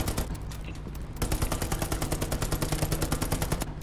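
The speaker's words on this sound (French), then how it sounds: "Si vous pouvez tirer juste à la mitrailleuse." Sustained machine gun fire in Hell Let Loose, a rapid, evenly spaced burst of shots that hammers on for several seconds after a brief lead-in, loud and close.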